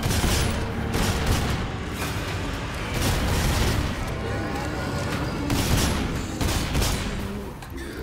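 Rapid, sustained gunfire in The Callisto Protocol, dense bursts and booms filling the whole stretch loudly and without pause, with a player talking underneath.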